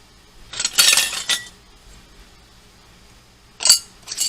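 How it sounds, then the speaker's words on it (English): A new metal lid is set onto a jar of homemade pineapple jam, giving a cluster of bright clinks and taps, then a pause and a second short round of clinking, close by with no speech. "place the lid on there."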